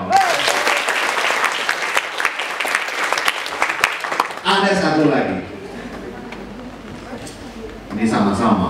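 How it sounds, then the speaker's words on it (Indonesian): An audience at a public speaking seminar bursts into loud, dense applause that fades, then swells again, with voices talking over it. "Tepuk tangan dong!"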